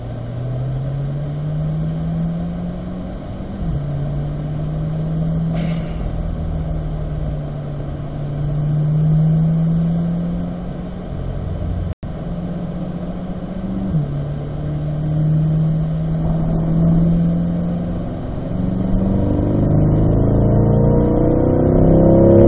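A Chevrolet Corvette C8 on a driving-school track pulls hard through its gears, the engine note climbing, dropping at each shift and climbing again, loud and close, finishing in a rising high-rev surge with no talking.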